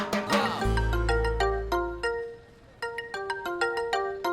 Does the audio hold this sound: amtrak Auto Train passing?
no